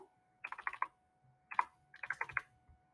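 Numbers typed on a computer keyboard into a budget spreadsheet: three quick bursts of crisp key clicks, four or five keys each, close and quiet.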